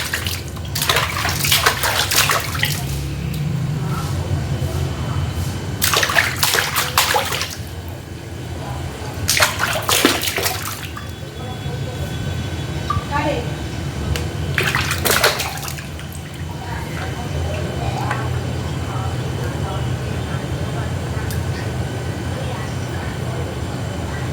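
A father bathing, with water splashing and sloshing in repeated bursts every few seconds over a steady background rush of running water, and voices talking nearby.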